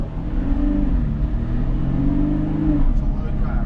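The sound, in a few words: Jeep Gladiator engine revving while mudbogging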